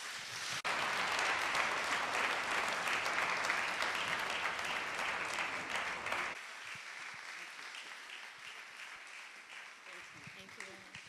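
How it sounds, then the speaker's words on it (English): An audience at a public-speaking event breaks into loud, sustained applause that slowly thins and fades, with a voice faintly under it. "Please don't stop clapping now."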